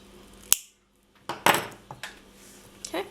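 Scissors snipping the end of a necklace cord, a few short crisp close-up cuts and small clicks separated by brief quiet gaps.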